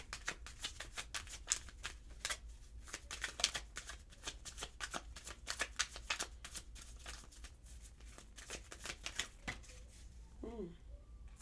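A City Labyrinth tarot deck being shuffled by hand, a steady run of crisp riffling card snaps and flutters close up, with a brief voice-like sweep near the end.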